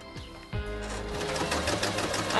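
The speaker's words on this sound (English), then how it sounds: "The less pressure you put on the presser foot, the slower your machine will go." A Kreshay sewing machine stitching, a close mechanical whir that starts up after a brief pause and then runs steadily and fairly loud to the end.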